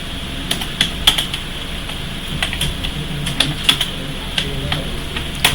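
Typing on a computer keyboard while entering data in Tally accounting software: scattered crisp key clicks with a few sharper keystrokes, such as pressing enter, close and clear above a low room hum.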